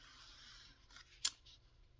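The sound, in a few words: scissors cutting junk journal paper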